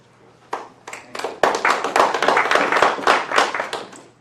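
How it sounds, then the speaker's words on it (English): Applause at a farmers market annual general meeting: a few scattered claps that quickly swell into steady group clapping from a small indoor audience, lasting several seconds at moderate loudness. "The only applause."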